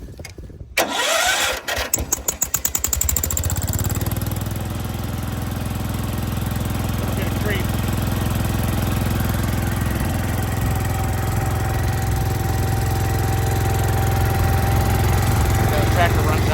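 A John Deere 140 H1 patio tractor engine cranks with a rapid starter whir, catches and fires, then settles into a steady, loud idle that runs on evenly close by.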